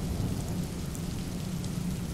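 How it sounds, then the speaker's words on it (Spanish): Steady rain pours outside a house at night, a dense continuous hiss with low rumbling underneath, filling the scene evenly without any voices. "ahorita está lloviendo"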